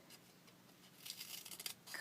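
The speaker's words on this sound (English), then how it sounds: "Grab my paper scissors" Paper scissors snipping through paper at an art-journal desk, a quiet run of short crisp cuts clustered in the second half, close and alone.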